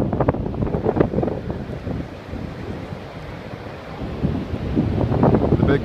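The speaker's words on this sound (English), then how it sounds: "This is a very windy day." Strong gusting wind roaring against the microphone at Morro Strand State Beach near Morro Rock, rising and falling in heavy buffets for several seconds, loud and close, without speech.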